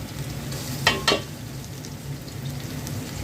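Ginger-garlic paste and black cumin hit hot oil in a pan for vegetable khichuri, cooked at an outdoor picnic, giving a steady close sizzle with two brief louder spatters early on and no talking.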